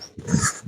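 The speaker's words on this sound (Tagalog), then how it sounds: "Oh, may aso." A dog on a farm with crops gives one short bark or whimper, close and fairly loud, lasting under a second.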